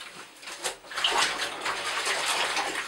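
Cloth diapers are swished and agitated in a bathtub of water, making close, continuous sloshing and splashing that rises after a brief lull.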